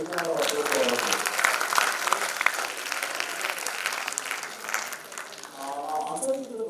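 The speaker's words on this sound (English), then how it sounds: "So big round of applause for all of you." Audience at a management conference breaking into sustained applause, a dense wash of many hands clapping that swells and dips slightly, with a voice faintly heard beneath.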